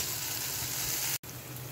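Fried prawns go into hot mustard oil and spice masala in a pan, sizzling loudly and steadily up close. The sizzle cuts out for a split second, then resumes.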